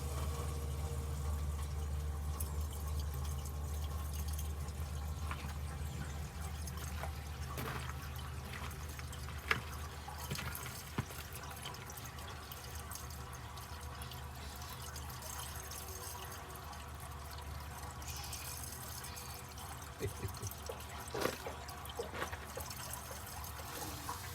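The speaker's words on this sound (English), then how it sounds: "Adding water." Water trickles and pours steadily into an overheated Detroit 8V92TA engine over a low background hum, with a few faint clinks and knocks; no one speaks.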